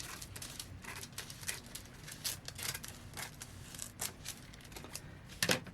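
Scissors cutting fabric along a corset side seam, a rapid run of close crisp snips with short pauses and a louder cluster of cuts near the end.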